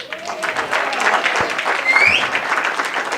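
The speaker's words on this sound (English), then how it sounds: "Clap." A comedy club crowd applauds during a stand-up set. The clapping is loud and sustained, with a brief whistle-like tone and a thud near the middle and a voice faintly under it.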